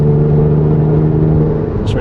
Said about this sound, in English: you kind of hear the exhaust coming through the cabin.